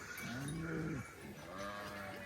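Sheep bleat in a rural village, where sheep and goats are kept. One clear, wavering bleat sounds nearby, then a fainter call follows over a background of outdoor noise.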